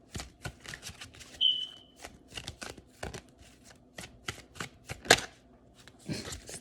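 Tarot cards are shuffled and flipped close by, a rapid run of crisp riffling snaps and papery slaps with brief pauses, and one louder flick near the end.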